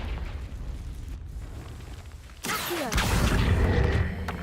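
A Confringo spell cast in Hogwarts Legacy bursts with a sudden loud blast and rushing whoosh that jumps out of quieter game ambience and sustains as a roaring, crackling boom.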